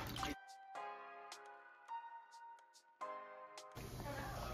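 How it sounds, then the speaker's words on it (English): Fresh strawberries are rinsed in cold, salted water. Close, wet dripping and sloshing sounds mix with a louder rush of running water at the start and end. "I'm gonna clean my strawberry using salt and cold water."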